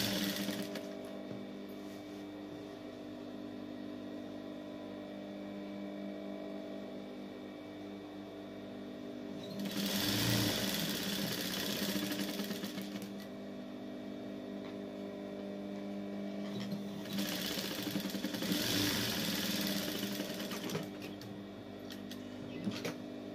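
A sewing machine stitches trim (grosgrain) onto fabric for a Moroccan makhour dress, running in steady bursts around 10–13 s and 17–21 s, with a quieter mechanical hum between and no talking.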